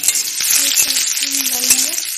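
Cumin seeds and chopped onion frying in hot oil for aloo chop filling, a loud, steady sizzle with crackling pops and stirring throughout, no talking.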